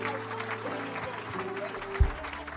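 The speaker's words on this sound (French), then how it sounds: "Venez, on acclame le Seigneur pour eux." A church congregation applauds during a baptism service, a continuous ripple of clapping mixed with crowd murmur and voices, ending with a single heavy thump.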